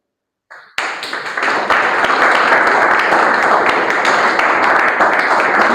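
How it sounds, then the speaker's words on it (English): An audience at a Toastmasters club meeting breaks into a sustained round of applause, starting with a few claps and quickly swelling into steady, dense clapping that continues to the end. "With a huge round of applause"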